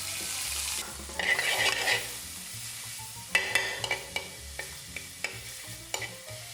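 Garlic and ginger go into a hot pan with finely diced onion for a sea bass curry, a bright burst of close sizzling and crackle followed by a regular series of spatula scrapes and knocks.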